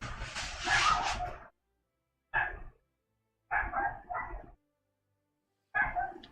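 In the video game Albion Online, a dog gives four separate barks: a longer, louder burst first, then shorter yaps spaced by silent gaps. The barks sound clear and close.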